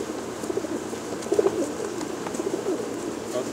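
Several pigeons coo softly and repeatedly in a pigeon shop, low rounded calls close by over a quiet room background.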